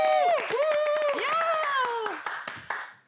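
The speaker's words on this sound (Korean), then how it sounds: "자, 박수 한번" On a Korean current-affairs talk show, a studio audience claps in quick, sharp bursts while a voice sings or calls out loudly over them, and the noise fades near the end.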